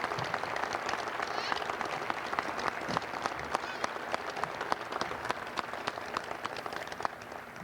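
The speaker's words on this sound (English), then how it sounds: "please give the former players that are here a round of applause" A crowd applauds former players of a sports program, giving a steady, moderately quiet stretch of clapping with individual claps standing out across the whole span.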